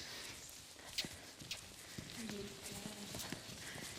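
A bitless horse trots around an arena, hooves striking the ground in a light, quick, even clip-clop, fairly faint beneath a woman's spoken riding instructions.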